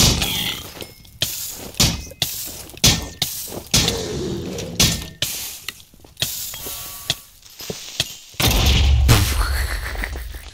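Explosions and heavy impacts in a cooperative action video game, a rapid series of loud thuds and shattering crashes, ending in a sustained roaring blast.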